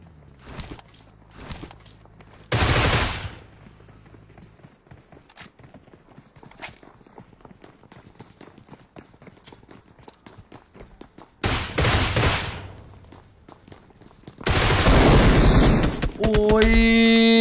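Video game gunfire arriving in several loud bursts of rapid shots, separated by stretches of quieter clicks and footstep-like taps, with the final burst running into ringing tones.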